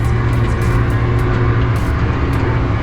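Orvex LT 100 Hydrostat forestry tractor creeping slowly in low gear over rough ground, a steady, loud, even engine and hydraulic drone with no break throughout.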